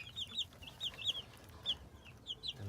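Young free-ranging chickens give soft, repeated high-pitched peeps and clucks, a quiet scattered flock calling close by with no talk.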